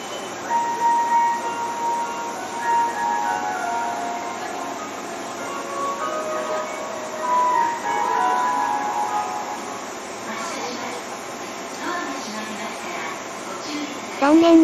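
A local departure melody, based on a local tune, plays at a station on the line crossing the Gunma–Niigata border. Faint tonal chime notes drift over train and platform ambience, with a voice talking over it.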